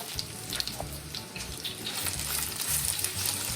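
Grated ginger and curry leaves fry in oil in a pan for rava upma, a close, continuous crackling sizzle with a fine watery hiss throughout.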